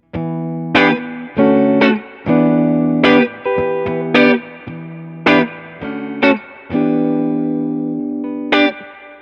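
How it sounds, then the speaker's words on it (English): Electric guitar riff played through an amplifier's overdrive channel with reverb: a series of loud, distorted chords and sustained notes in a rhythmic pattern, alone without talk. "here's what the overdrive channel sounds like, and I'll play that same riff I just played"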